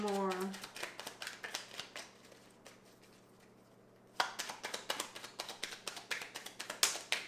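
Tarot cards are drawn and laid down one after another, a run of close, crisp taps and soft slaps with a short quiet pause partway through.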